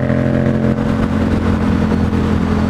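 A Yamaha FZ-07 motorcycle with an aftermarket, non-stock exhaust cruises on a highway in sixth gear, its engine a loud, steady drone with a deep, throaty rumble throughout.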